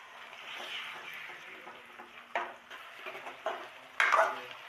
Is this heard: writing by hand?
no